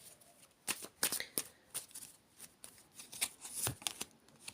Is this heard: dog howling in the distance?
no